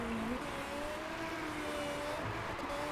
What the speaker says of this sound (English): That car just passed us on the inter